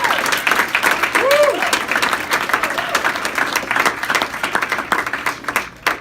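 An audience at a school winter athletic awards claps steadily for several seconds, dense applause with some voices and cheers mixed in, tapering off at the end.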